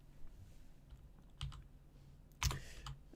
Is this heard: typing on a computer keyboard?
yes